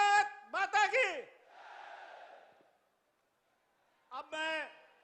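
A rally crowd at a public meeting in Varanasi Rural answers in a diffuse, distant roar after a loud amplified voice shouts the slogan; after a short pause the lone voice calls out again.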